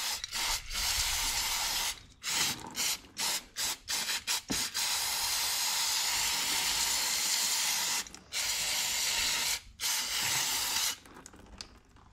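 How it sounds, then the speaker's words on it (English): Long hissing bursts of brake and parts cleaner sprayed onto winch parts during a Dominator Extreme winch service, loud and close, several sustained blasts separated by short pauses and quick taps. "I'll just wash with some good brake and parts cleaner"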